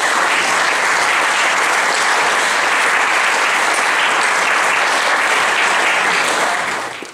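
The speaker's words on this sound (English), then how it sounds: "Can we please put our hands together and give a huge round of applause?" An audience in a cinema theatre claps in welcome of a speaker. The applause is loud, steady and continuous, then tapers off briefly at the end.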